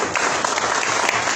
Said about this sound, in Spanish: para quien pido un aplauso, por supuesto